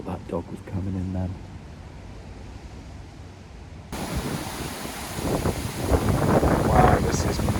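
Wind buffeting a campsite, a brief voiced sound early on, then quieter rushing before a loud, rough roar of wind noise rises and builds toward the end, close and harsh on the microphone.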